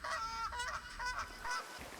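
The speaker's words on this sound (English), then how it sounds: "geese fly south for the winter" Geese honk repeatedly in a close, loud flock, the calls overlapping in quick bursts, consistent with birds flying south for the winter.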